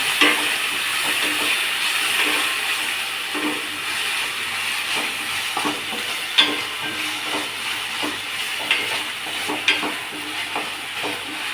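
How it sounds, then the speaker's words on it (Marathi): Grated potato, squeezed of water, sizzles and is stirred in a pan with fried green chillies over medium gas, a steady frying hiss broken by scraping stirs and occasional sharp spatters. "कमीत कमी 2-3 मिनटं तरी हा बटाट्याचा खीस परतून गॅस मीडियम ठेवायचा"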